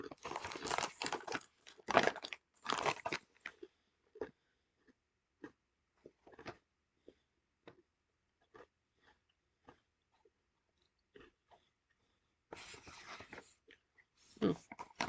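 Crunchy hexagonal Thai fried wheat crackers are chewed up close in bursts of crisp crackling, with loud crunching at the start and end and sparse soft chews and small clicks in between.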